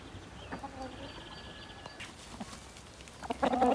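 Hens cluck in a rural yard after being fed, with a few faint calls early on and then a close, busy flurry of clucking at the end.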